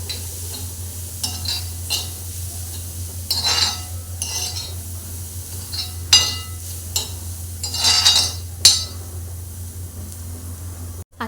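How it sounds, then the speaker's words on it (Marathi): Kantoli (spiny gourd) vegetable being stirred and sautéed with turmeric and masala in a pan, with intermittent scraping and clinking strokes of a spoon over a steady low background hum, no talking. "आता याच्यामध्ये हळद घालूया, 1 चमचा मसाला घालूया आणि छान परतून घेऊया."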